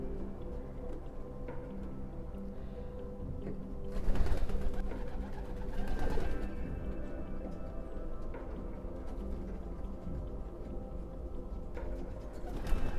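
Racing pigeons coo softly and repeatedly inside a breeding loft, with low, steady cooing throughout and a couple of slightly louder bursts of fluttering activity nearby, with no talking.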